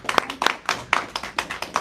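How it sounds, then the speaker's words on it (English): Applause from a gathering at a devotional talk, with a short burst of hand clapping at irregular rhythm that stays moderately loud throughout. "So big round of applause."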